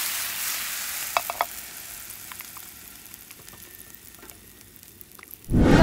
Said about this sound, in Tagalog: Umpisahan na natin sa pag-saute nitong ating mushrooms